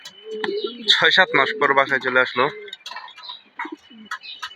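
Domestic pigeons, including a red checker hen returning home after months away, coo softly in short bursts while someone talks over them.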